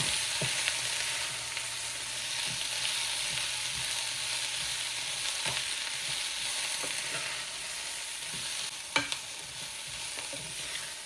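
Coriander-cumin and chili powder are stirred into vegetables in a pan, with a steady close sizzle and a few soft scraping strokes of the spoon.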